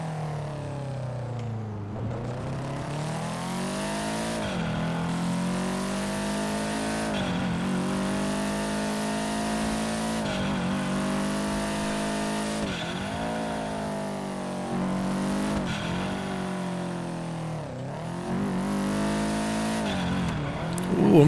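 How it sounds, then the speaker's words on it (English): A Subaru WRX STI in GTA 5 drives with a steady, loud engine drone, its pitch climbing through repeated gear changes in a regular rising-and-dropping pattern, close and continuous with no talk. "Really a one-for-one Subaru sound"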